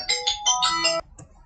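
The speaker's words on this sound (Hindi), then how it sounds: "कॉल आ जाता है तो फोन उठाना ही पड़ेगा ना" A mobile phone rings with an incoming call, playing a bright chiming melody of several quick tonal notes for about a second before cutting off, loud and close in a quiet room.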